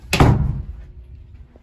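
A house door leading into the basement of a Denver model home swings open with a sharp clunk and rattle, followed by a short fading rumble, close and alone.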